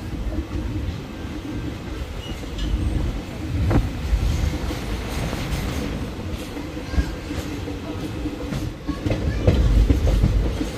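The 13431 Balurghat Express runs on after leaving Buniadpur station, heard from inside a general coach as a continuous loud rumble with rhythmic wheel clatter and occasional faint squeals.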